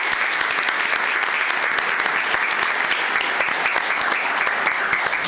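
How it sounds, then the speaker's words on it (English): A room of attendees at a county commissioners court meeting gives steady, dense applause for honored employees, continuous clapping throughout with no pause. "Let's give them a big round of applause."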